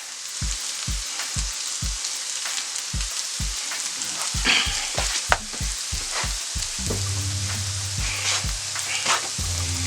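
Seasoned potatoes with paprika and garlic powder frying in a skillet for a country breakfast casserole, a loud close sizzle broken by repeated thumping stirs and scrapes throughout.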